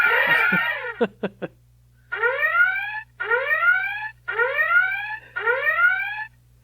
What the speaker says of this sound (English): Alexa, activate alarm.